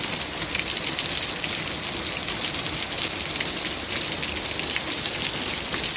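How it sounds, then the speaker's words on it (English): Heavy rain pouring down outdoors in a constant, dense hiss of drops striking surfaces, loud and unbroken throughout with no voices. "Look at the rain. And it is just coming down heavy."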